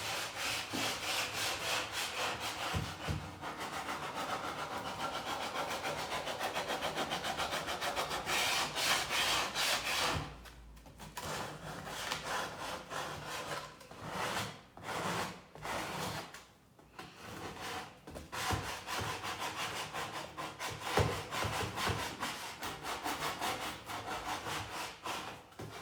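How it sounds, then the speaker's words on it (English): Sandpaper is rubbed against painted wooden furniture to distress it, making close, continuous rasping strokes, steady at first, then in short uneven bursts with brief pauses. No one speaks. "at an angle, I'm going to sand to subtly distress my furniture piece"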